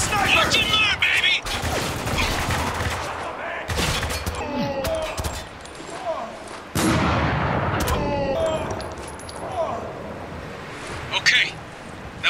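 Gunfire from Spec Ops: The Line, with bursts of rifle shots and heavy impacts coming in loud clusters over a dense combat din, while voices shout through the fighting.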